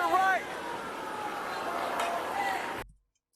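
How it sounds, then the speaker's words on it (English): Police sirens wail faintly in the distance under an ongoing street scene, their rising and falling tones partly buried by a steady wash of background noise before the sound cuts off. "Hear the sirens in the background?"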